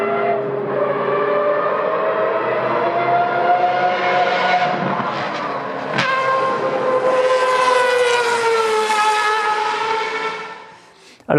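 A Mazda 787B race car with a four-rotor rotary engine screams past, its loud, high-pitched wail climbing through the gears, peaking sharply and then fading as it moves away.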